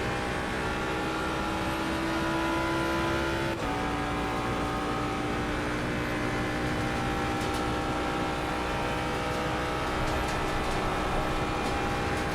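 A racing car engine in a driving video game screams at high revs in a steady, loud drone, with a brief dip in pitch as it shifts before climbing again.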